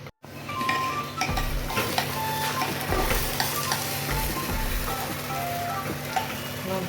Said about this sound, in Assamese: ভাজি আছোঁ চাউলখিনি